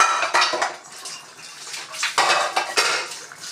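Water is poured into a pan of Chettinad chicken masala while a utensil scrapes and clinks against the metal, in close, busy bursts of pouring and scraping.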